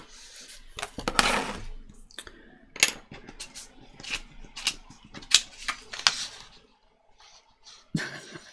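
A paper mat for a journal is cut by hand in a series of sharp, irregular snips and crisp paper rustles, close and quiet, with short pauses between cuts.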